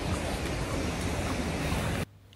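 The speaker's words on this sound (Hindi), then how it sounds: "ये जो तेज़ रफ्तार में जो पानी आ रही है झरना की तरह, ये उसी गुफा के अंदर से आ रही थी" Water rushes fast out of Robbers Cave (Gucchu Pani) like a waterfall, a dense, steady roar close by that cuts off abruptly near the end, with no speech.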